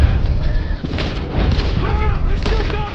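Booming gunshots and heavy blasts ring out in Red Dead Redemption II, loud and close, layered over a thick rumbling game soundscape with a few tonal effects.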